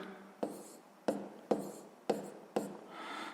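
Someone writes a math answer by hand, five quiet sharp strokes of pen on paper at uneven intervals, close and soft, with no talk.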